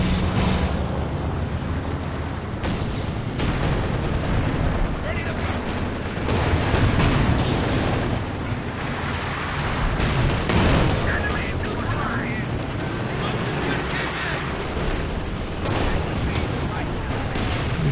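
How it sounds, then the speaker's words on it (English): Artillery barrage in Company of Heroes 2, a dense 3v3 battle with continuous rumbling detonations and gunfire that swell and overlap across the whole stretch, loud and busy, with speech mixed in underneath. "Using the regular barrage here rather than like maybe the heat barrage."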